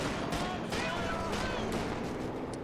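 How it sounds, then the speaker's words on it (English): Auto cannon fire from a half-track in a WWII real-time strategy game, a run of sharp repeated shots over continuous battle noise, with commentary audible underneath. "Here comes a half track for some support. Yeah. It can penetrate with its auto cannon."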